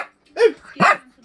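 A pet dog named Lilly lets out two close, loud barks spaced about half a second apart, alone with no talk over them.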